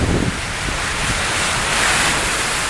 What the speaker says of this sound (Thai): เสียงคลื่นลมทะเล